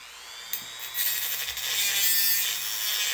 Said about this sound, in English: What we're going to do, we're going to use the almighty Dremel tool.